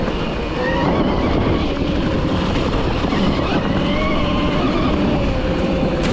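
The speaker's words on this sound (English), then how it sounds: "Motor's got a nice little hum to it." Steady motor hum from an Arctic Pro S Enduro midsize bike while riding, a continuous loud drone with a faint whine layered on top and no talking, holding evenly throughout.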